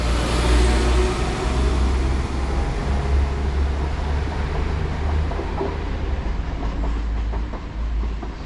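A Class 172 diesel passenger train pulls away on the 10:42 service from Worcestershire Hill toward Droitwich, a loud, close, steady rumble with a faint rhythmic clatter that carries throughout.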